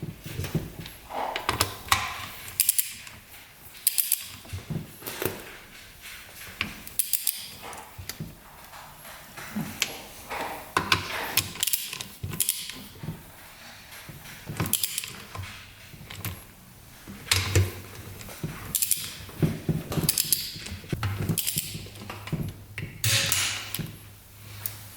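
Bolts on a broken-down UTV engine rebuild being tightened in a cross pattern with a ratchet wrench, giving repeated short clicking and clanking bursts at close range between quieter pauses.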